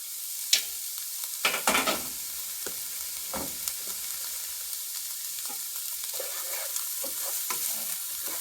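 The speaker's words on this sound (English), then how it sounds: "So I'm going to saute this for a couple minutes until the onions and carrots get a little softer" Onions and carrots sautéing for fried rice in a pan, a steady close sizzle broken by scattered scrapes and stirring knocks, with no talk.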